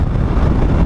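Wind buffets a rider on a Suzuki V-Strom 1000 motorcycle, a loud, continuous low roar booming close against the helmet for under a second with no other sounds.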